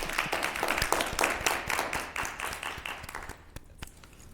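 A room at a board of elections meeting breaks into applause, a dense patter of many hands clapping that thins out and fades toward the end.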